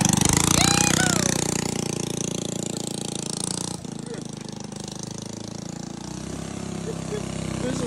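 A cheap $40 go-kart's small engine runs just after a first start with the wheel on the ground, a loud rough chugging drone that holds steady for several seconds, with a brief dip midway.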